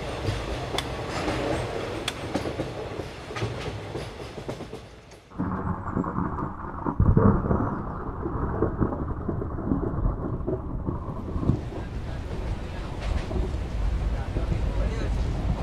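Steady rain pours with rolling thunder, loud and enveloping, then cuts to a muffled, lower rumble of rain before the full downpour returns.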